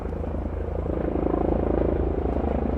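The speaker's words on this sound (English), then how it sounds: "We got a chopper." A helicopter passes over a cool-climate banana garden in Melbourne, its rotor thudding in a steady, moderately loud chop.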